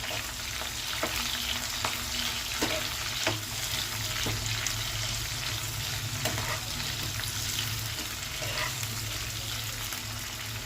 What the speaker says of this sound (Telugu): ఉల్లిపాయలు కూడా బాగా వేగాలి.